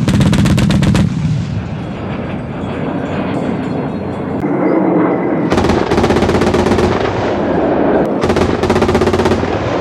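Oerlikon anti-aircraft cannons on a Gepard self-propelled gun fire in long, loud rapid bursts, a harsh hammering roar with a heavy rumbling vehicle engine beneath and brief pauses between volleys.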